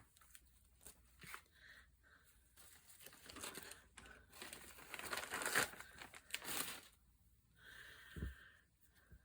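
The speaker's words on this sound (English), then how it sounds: "use your scissors on this." Scissors cutting through folded paper material for a grungy file-folder journal, with quiet snips and crinkling rustles that come in bursts, close up and faint.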